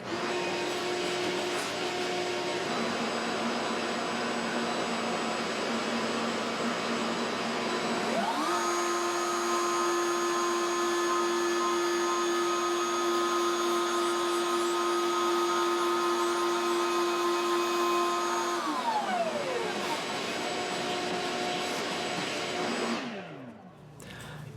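A bearing-guided router cuts a binding channel along a Gibson-style guitar neck, its bearing riding over the frets on the fretboard. A loud, steady motor whine shifts pitch midway, then winds down and cuts off near the end.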